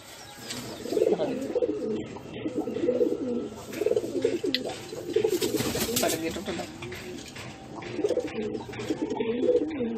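Madrasi pigeons coo in low, repeated rolling phrases close by, with a voice talking over them throughout.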